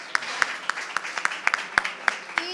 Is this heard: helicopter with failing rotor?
no